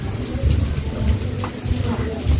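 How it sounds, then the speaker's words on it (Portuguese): Steady rain falls outdoors during a storm, a dense continuous hiss with low rumbling texture throughout, loud and close. "Vou aproveitar que agora a chuva diminuiu um pouquinho"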